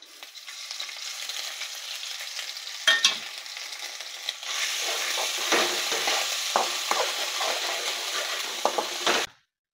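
Curry leaves and ginger garlic paste hit hot oil in a pan with a loud burst of sizzling that settles into a steady, close crackle with occasional stirring scrapes before cutting off abruptly.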